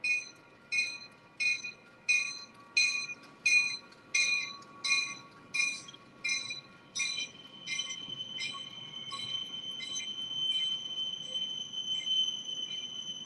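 Train wheels squeal loudly as an elevated Chicago train rounds a curve at night, a series of about a dozen sharp, rhythmic shrieks giving way to a sustained metallic squeal, with no talking.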